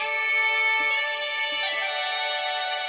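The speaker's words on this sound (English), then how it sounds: "These bagpipes are from this sound library from East West." Bagpipes from the EastWest Raw Julian Pipes Live sample library drone continuously with a bright, reedy, buzzing tone, steady and loud throughout with a slight shift in the melody near the end.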